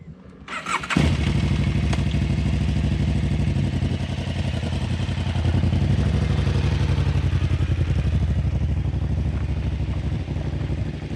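A motorcycle engine starts with a short burst, then settles into a steady, loud, close rumble as the bike rides on, its throbbing exhaust note continuous throughout.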